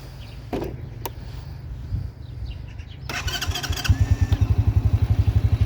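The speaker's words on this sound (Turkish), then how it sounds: "Şimdi bir marşa basalım." An RKS Easy Pro 50 cc motorcycle engine cranks with a few sharp clicks and a whirring starter, then catches and settles into a loud, rapid, evenly pulsing idle that grows steadier toward the end.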